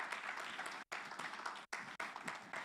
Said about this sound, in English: Let's clap for our associations here.